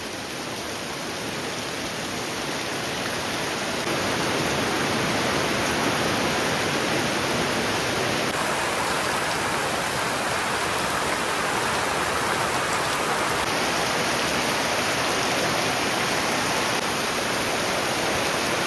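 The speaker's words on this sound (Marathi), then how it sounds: "सकाळी पाऊस बघा. पावसाने एवढा जोर धरलाय ना, जबरदस्त." Heavy morning rain in Raigad pouring down in a dense, steady roar of drops, loud and continuous throughout with no voices.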